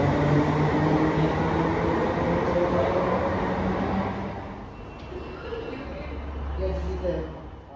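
Class 320 electric train 320 404 at Motherwell station, bound for Cumbernauld, a steady rumble and hum of the unit that eases off midway, with a low tone rising near the end.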